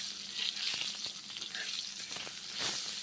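Eggplant slices fry in hot oil in a pan, a steady bright sizzle with soft crackles and a few light knocks of a spatula turning them, close and continuous with no talking.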